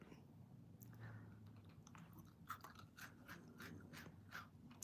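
Someone crunches and chews gluten-free chocolate mint cookies close to the mic: soft, rhythmic crunching bites and chewing, quiet overall, with a faint low tone underneath.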